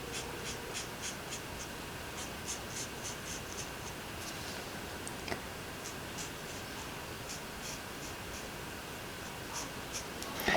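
Coloring by hand on paper for a pinwheel card, with a steady soft scratching of the pencil or marker and faint taps, quiet and close with no talking.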